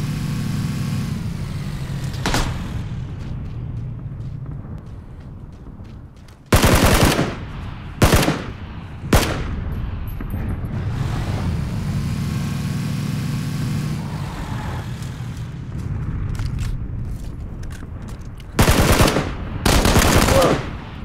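Bursts of automatic gunfire from Battlegrounds ring out in several loud rapid volleys between stretches of a running vehicle engine, with a player speaking briefly.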